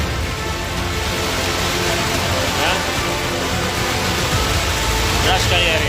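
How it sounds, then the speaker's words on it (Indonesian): Swift floodwater rushes through flooded villages in East Aceh, a loud, continuous broadband roar close by that never lets up, with people's voices faintly audible over the torrent. "Airnya sangat deras."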